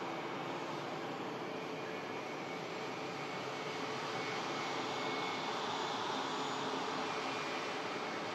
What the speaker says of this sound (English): Wow, lovely KLM, Embraer,